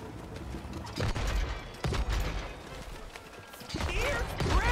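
Cannon fire from It Takes Two on the Road to the Magic Castle stage: a few sharp booming shots spaced about a second apart, set among mechanical clatter and game noise, with a voice faintly present.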